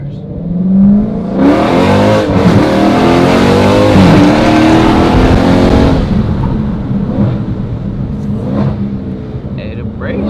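A Dodge Scat Pack's engine roars loud and close as it revs hard and spins its tires for about six seconds, then drops back to a lower idle rumble with a voice in the car.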